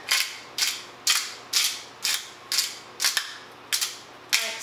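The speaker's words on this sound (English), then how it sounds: "you're gonna take some black pepper. And I'm just gonna grind mine" A hand pepper grinder cracks whole black peppercorns in about nine short, evenly spaced ratcheting bursts, close and clear with no talking.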